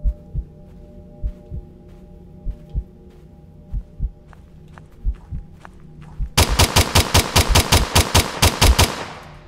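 Automatic gunfire mag-dumping into a mimic in the video game Mimic Search: after a stretch of sparse single shots over a low hum, a loud, rapid burst of evenly spaced rounds fires for about three seconds, then fades.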